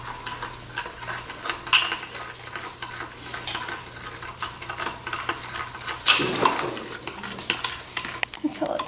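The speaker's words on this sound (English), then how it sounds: "And then you're going to mix it all together." Organic sugar and cinnamon being stirred together in a bowl, a close scraping and rustling of utensil against dish with occasional clinks, continuing steadily and briefly louder near the end.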